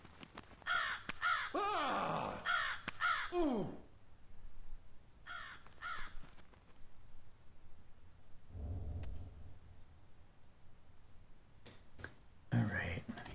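Crows caw in the turn-based video game Shrouded Aspect, with a burst of loud, harsh calls at the start, a few more a little later, and clicks and faint murmured talk in the quieter stretches between.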